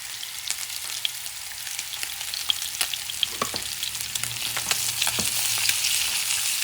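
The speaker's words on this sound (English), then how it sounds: "It should be nice butter cooking the bottom" Blackened, spice-rubbed rainbow trout frying in butter in a pan: a dense, continuous sizzle full of fine crackles and pops that swells slightly toward the end, close up, with no talk.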